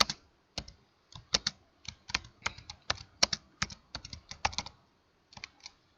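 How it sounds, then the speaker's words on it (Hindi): Someone types on a computer keyboard in a word processor, with close, crisp keystroke clicks in irregular bursts separated by short pauses, quiet and without speech. "यहाँ पर मैं कुछ टाइप कर रही हूँ."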